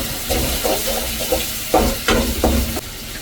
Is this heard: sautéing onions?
yes